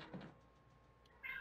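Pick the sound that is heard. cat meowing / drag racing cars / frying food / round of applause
cat meowing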